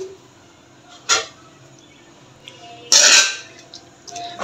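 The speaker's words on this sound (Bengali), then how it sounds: "আমি এখন এটা একটু ঝরিয়ে নেব, ঢেলে নিব" Boiled cabbage poured into a strainer to drain: a few clinks of a pot, then a short loud rush of splashing water, with lighter knocks afterwards.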